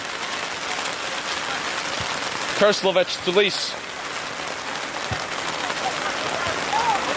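Steady rain falls on an outdoor field during an amateur soccer match, a constant hiss of drops on the surface throughout, with a commentator briefly talking over it.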